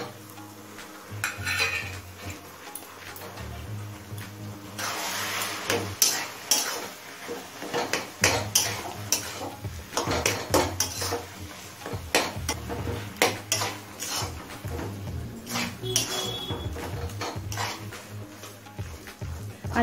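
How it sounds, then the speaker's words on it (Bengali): Boiled potatoes are stirred and mashed into a cooking mixture in a pan for vegetable chop, with repeated scraping and knocking of a utensil against the pan over a faint sizzle, and some talk in places. "আলুটা দিয়ে ভালোভাবে মিশিয়ে নিয়েছি।"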